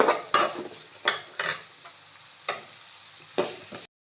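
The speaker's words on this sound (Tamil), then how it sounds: "நல்லா வதக்கிக்கோங்க." Onion sautés with salt in a pan, a continuous sizzle broken by repeated sharp scraping strokes of a spatula against the pan, close and fairly loud, with no talk.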